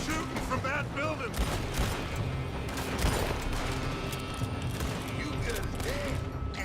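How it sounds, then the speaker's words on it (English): Gunfire rings out from a building during a Red Dead Redemption 2 shootout, with dense overlapping shots, creaks and clatter in a continuous loud battle mix beneath voices. "They're shooting from that building."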